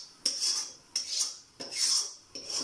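Beef biryani rice being mixed with beef and spiced oil, a metal spoon scraping the pot in four rhythmic strokes, close and clear with no talking.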